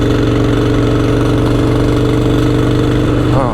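A motorcycle engine on a holiday ride, a loud, steady, close rumble with a dense low throb that holds even throughout and rises slightly in pitch right at the end.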